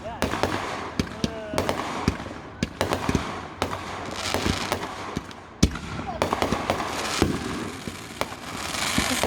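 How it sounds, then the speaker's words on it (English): Fireworks show exploding outdoors, a rapid irregular series of sharp loud bangs and crackles with a whistling rise, voices murmuring faintly underneath. "This fireworks is a waste of time."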